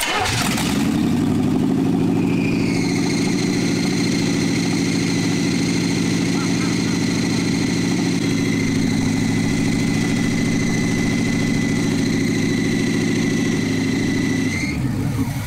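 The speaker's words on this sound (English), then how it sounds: "Well, without any throttle, try to crank it over again." An abandoned 1971 Jaguar fitted with a small-block Chevy V8 cranks briefly, then catches and runs steadily at idle. The engine hum is loud and close and holds without throttle for most of the stretch before cutting off near the end.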